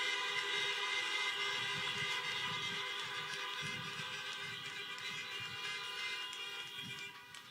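Car horns honk in a sustained, overlapping chorus from vehicles at an outdoor drive-through high school graduation ceremony. The sound is loud and dense, with faint crowd noise beneath and no speech.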